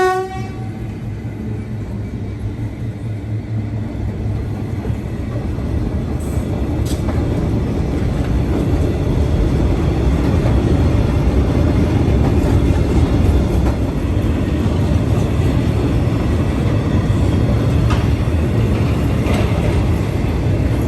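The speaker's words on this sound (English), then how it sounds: "It's fascinating to see a freight train trundling down a public road." A freight train trundles down the middle of a residential street in Rockhampton, Australia, with a horn sounding briefly at the start, then a deep steady rumble of wagons rolling past that swells and holds close.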